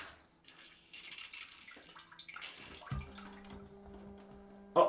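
Water sprays and trickles from a bidet's rear wash nozzle, a steady hiss and gurgle with tonal hums from the unit's pump, moderately close and uninterrupted by talk.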